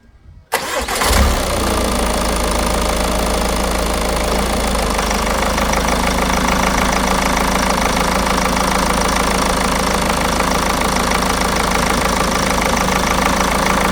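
A 2017 Ford Focus ST TDCi diesel engine cranks briefly and catches after a fuel filter change, then settles into a steady, loud, close idle with a constant diesel clatter that holds to the end.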